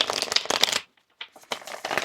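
A tarot card deck is riffled and shuffled close up, two bursts of crisp flapping and clicking separated by a brief pause, with no one speaking.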